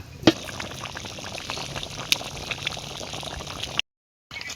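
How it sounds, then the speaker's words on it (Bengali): Hot water pours steadily into a pot of cooking chicken pilau with a broad rushing splash, a few clinks along the way, then cuts off briefly near the end. "এখন পানি দিয়ে দিব গরম পানি"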